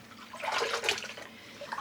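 Water sloshing and swirling in a rinsing tub as hand-dyed yarn is rinsed, with the water running dark green; a steady, close wash of splashing and trickling at moderate level.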